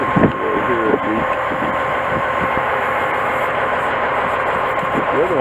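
Steady, loud hiss of air escaping from a leaking vehicle air suspension bag pressurized to about 120 pounds, a continuous broadband rush close to the microphone with low mechanical rumble beneath.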